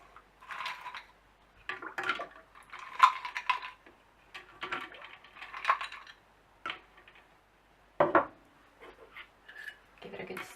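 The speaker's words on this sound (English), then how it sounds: "So we're just gonna add some ice." Ice cubes dropped into a glass of cold brew lemonade, a scattered series of hard clinks and clatters in small bursts with short pauses between them, fairly close and moderately loud.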